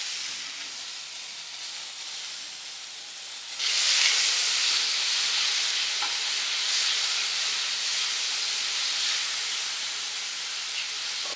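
Two onions and tomatoes cook in a pan for chutney, giving a steady hiss and sizzle that jumps louder a few seconds in and then holds, with no voices.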